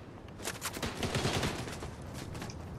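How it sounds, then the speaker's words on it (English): Rapid automatic gunfire from a Fortnite match, loud, dense bursts of shots filling the moment with no talk over it. "Somebody is shooting at me."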